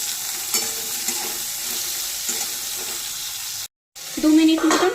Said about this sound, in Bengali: টুকরো করে কেটে রাখা সবজিগুলোকে দিয়ে দিলাম দিলাম অল্প একটু নুন সবজিগুলো হালকা ভেজে নেব